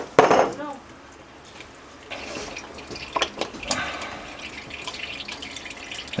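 Fluid leaks and drips beneath a Cat 3126 engine block in a cramped space under a skoolie, a few sharp splashes among faint trickling and scattered clanks.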